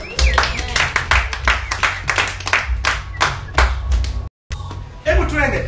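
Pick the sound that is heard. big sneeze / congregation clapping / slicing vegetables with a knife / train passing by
congregation clapping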